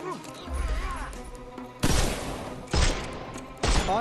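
Gunfire in the Sherlock Holmes Chapter One video game: three loud, sharp bursts of shots at uneven gaps over a low rumbling game score, sounding close and punchy.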